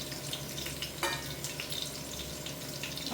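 Onion frying in a pan, a close crackling sizzle with bursts of spattering and light stirring clicks, steady throughout with no voices.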